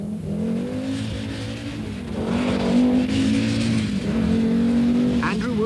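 An Audi 90 Quattro rally car's engine revs hard with rising and falling pitch through gear changes, loud and close from inside the car, with faint tire noise near the end.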